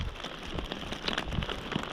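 Rain patters steadily onto a river and a plastic poncho while kayak fishing on the Brazos River, a close, dense hiss dotted with small crackling drops, no voices.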